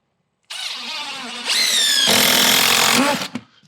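A power drill drives a screw into a 2x8 at a gable end rake: the motor whirs up, climbs in pitch, then grinds loudly as the screw bites, stopping abruptly after about three seconds with a faint rattle.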